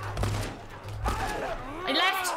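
A few sharp gunshots crack in The Last of Us Part 1, spaced unevenly over a couple of seconds, mixed in with talking and shouted voices.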